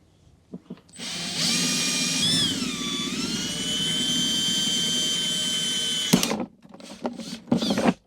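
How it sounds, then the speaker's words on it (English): Power drill boring a hole through a truck console lid on a 2005 GMC, a close high whine that rises and dips under load for about five seconds, then stops, followed by a few clicks and handling knocks. "to drill a hole to pass the wire through on the lid"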